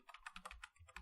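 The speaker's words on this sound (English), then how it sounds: "I will quickly type the SQL statements." SQL statements being typed on a computer keyboard: a quiet, steady run of about nine crisp key clicks in quick succession, with no voices.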